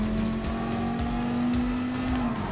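Race cars in Gran Turismo Sport competing closely during an overtake, a loud continuous engine drone with steady pitch and rhythmic pulsing, with tire noise throughout and no talk.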